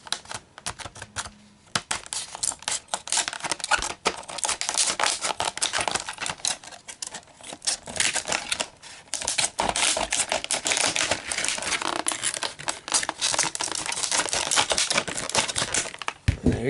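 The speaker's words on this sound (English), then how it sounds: "So let's cut this one open." A plastic blister package holding a 1/64 scale 2005 Chrysler 300C Hemi limousine toy car is cut open, giving dense, crisp crackling, snipping and crinkling that comes in close bursts with brief pauses.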